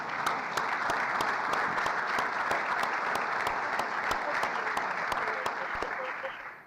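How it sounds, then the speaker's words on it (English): Sustained audience applause, dense, even clapping at a steady level with individual sharp claps standing out, continuing for several seconds before tapering slightly at the end. "That applause was prompted"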